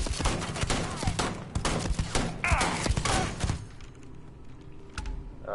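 Bursts of gunfire in the Starfield video game, dense rapid shots with thuds packed into the first few seconds, then a quieter stretch broken by a single later shot.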